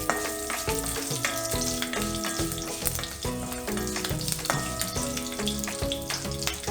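Onions fry in hot oil with spluttered fenugreek seeds for a Kerala-style sambar, giving a steady, close sizzle with occasional stirring scrapes and no voices.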